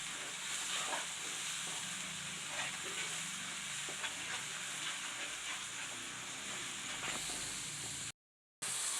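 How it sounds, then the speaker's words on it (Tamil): Onion-tomato paste sautéing in oil over a low flame for a kendai fish curry, a steady broadband sizzle with scattered stirring scrapes running throughout before a brief dropout near the end. "நம்ம அரைச்சி வச்ச வெங்காயம் தக்காளி பேஸ்ட்டை இதில் சேர்த்துக்கலாம். இப்போ இதை நல்லா வதக்கிக்கலாம்."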